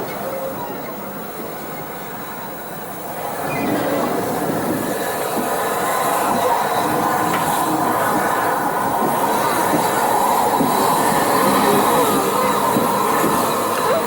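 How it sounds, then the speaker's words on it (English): An Ivatt tank steam locomotive, 41306, rumbles and chuffs as it moves off toward the water column on the Axminster to Lyme Regis branch line, its steady mechanical noise swelling after a few seconds and holding close and loud. "As Ivat Tank 41306 pulls forward to the water column, Mervyn Legg gets ready to change the points"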